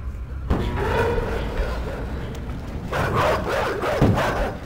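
Dogs barking in the video game Inside, loud sharp barks and thuds over a dense noisy background, with a person talking over the action.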